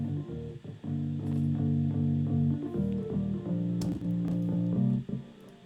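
Soft synth patch stacking a quiet square wave under white noise, sustained chords holding steadily for several seconds with a hazy, airy top, played alone without talk.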